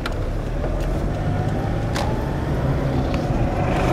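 Toyota Hilux 3.0 D4D diesel pickup pulling away in first gear, a steady low engine rumble heard from inside the cab with a couple of faint clicks, continuous and even.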